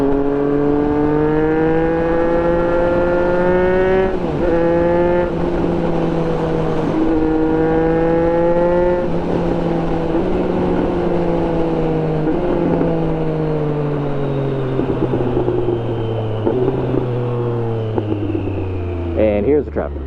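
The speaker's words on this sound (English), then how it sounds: "and here's the traffic." Road traffic passes nearby, with engines droning steadily and rising and falling in pitch as vehicles shift gears and move along, loud and continuous for the whole stretch.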